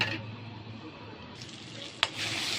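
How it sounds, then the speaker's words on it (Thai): A heaped spoonful of Thai curry paste fries in a little hot oil with a soft, steady sizzle, broken by one sharp scrape or clink partway through. "ผัดพริกแกงให้หอมสุกนะคะ"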